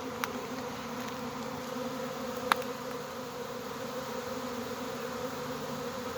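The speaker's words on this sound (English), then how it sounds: "No, they're just doing normal bee stuff." Honey bees buzzing steadily around their hive during swarm season, a dense continuous drone with a few brief clicks, close and alone with no voices.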